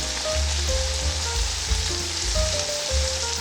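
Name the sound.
meat frying with onion and spices on high heat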